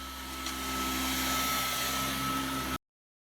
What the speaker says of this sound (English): I just thought you should appreciate the sounds of my vacuum cleaner, who is definitely a heavy breather.